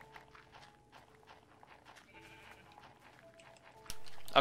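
Sheep in the Minecraft video game bleat in short, repeated calls, fairly faint against light game sounds, with a louder burst at the end.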